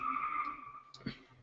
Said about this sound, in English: I noticed they were trying to do some drag racing